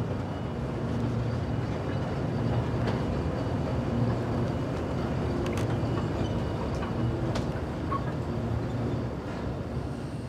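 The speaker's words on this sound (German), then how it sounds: "18 Torfbahnen kommen täglich hereingefahren." A loud, continuous rumble of a peat railway train arriving at a factory rolls steadily with rattling wagon noise and faint squeaks, and no voices.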